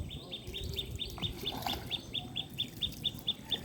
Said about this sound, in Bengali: কি পাখি ডাকছে?